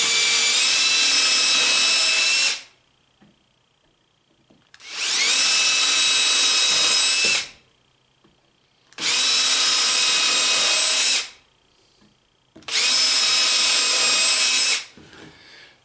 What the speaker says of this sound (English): I use an 1/8 inch starter bit, or any drill bit's fine, to drill my pilot hole